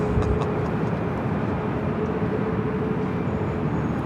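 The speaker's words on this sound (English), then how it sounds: "This is Southwest Airlines 4737 taking off to San Antonio on the 737 700." A Southwest Airlines Boeing 737-700 takes off from Los Angeles LAX, bound for San Antonio, as a loud, steady, broadband jet roar that holds constant throughout, with no voices.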